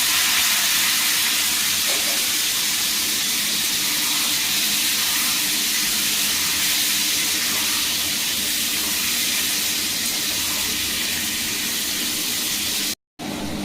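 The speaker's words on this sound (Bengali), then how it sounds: "এবার ওই তেলে লবণ দিয়ে দেবো, দিয়ে আলুটা ঢেলে দেবো।" Potatoes frying in hot oil with salt and black cumin seeds, a dense continuous hiss and sizzle, loud and close, running throughout with a brief dropout near the end.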